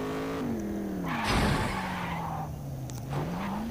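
The old junk car, a Milagro in the Gangstar Vegas video game, drives fast with a steady droning engine note that rises and falls, broken by a brief tire skid midway.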